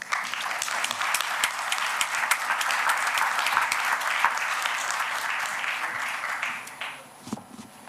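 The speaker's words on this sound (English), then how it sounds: "let's give them a big applause" An audience at an energy-transition financing panel gives the panelists a big round of applause, a dense, steady clapping that swells, holds and tapers off near the end, followed by a few stray claps.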